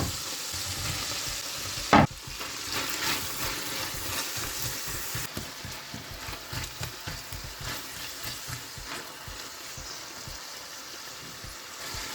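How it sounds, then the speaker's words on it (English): Chopped onions frying in a pan with oil while being stirred, a steady close sizzle with scraping stir sounds and a brief louder clatter early on, continuing alone without talk. "Add the chopped onions and fry it together."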